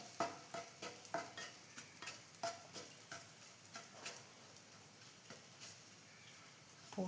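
Asafoetida powder roasting in a pan for idli podi, with a steady soft sizzle broken by repeated sharp clicks and scrapes of stirring, a spoon tapping and rubbing against the pan in an uneven rhythm, fairly close and moderately quiet.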